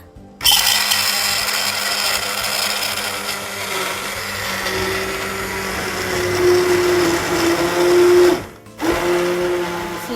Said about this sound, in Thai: เดี๋ยวเรามา ปั่นซุปของเรากันนะคะ ทุกคนปั่นกันร้อนๆเลยนะคะ เสียงอาจจะดังหน่อยนะคะ